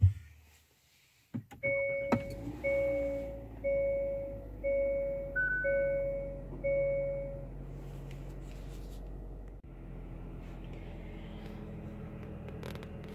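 A 2021 Hyundai Kona gives a series of about six evenly spaced electronic chimes after the push-button start is pressed, followed by the engine settling into a quiet, steady idle hum.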